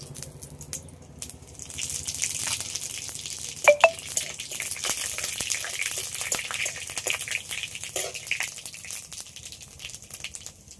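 Five-spice tempering crackles and sizzles in hot oil with a dried red chilli, a steady hiss with scattered pops and a couple of sharper clinks near the start, close and continuous without talk.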